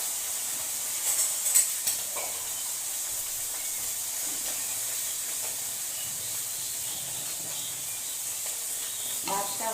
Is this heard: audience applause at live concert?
no